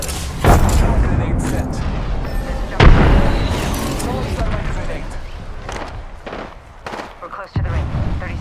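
Frag grenades go off in Apex Legends, several deep booming blasts spaced a few seconds apart, loud and close, with in-game voice callouts and other battle noise between them.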